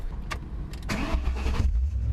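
A car engine cranking and catching, then running rough near by with a low rumble and a grinding, noisy whine from a worn throwout bearing, loud and alone.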